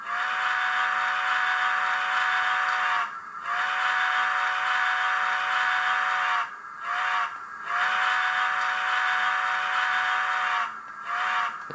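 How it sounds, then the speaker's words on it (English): A Bachmann Nickel Plate Road Berkshire 759 model steam locomotive's sound-effect whistle blows in long, shrill, hissing blasts with short breaks between them, loud and close. "So let's do F2 is the normal whistle"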